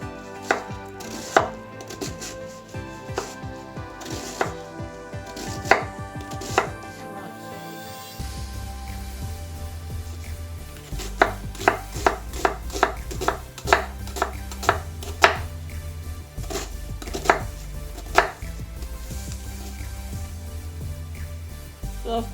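Knife chopping vegetables on a board in a home kitchen, with slow separate cuts at first and then a run of quick, steady, close strikes, loud against a low musical background.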